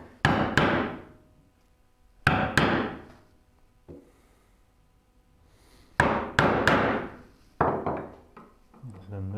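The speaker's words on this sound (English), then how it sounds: "just till I hear that thud and feel the resistance" A part of a rolling cabinet base is struck with sharp hammer blows, a few grouped strikes in pairs and triples with pauses between, ending in dull solid thuds as it seats, close and fairly loud.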